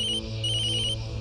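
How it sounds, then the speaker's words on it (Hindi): A mobile phone ringtone, an electronic melody of repeated bright tones over a steady low hum, loud and close with no talking. "अरे मेरा फोन बज रहा है।"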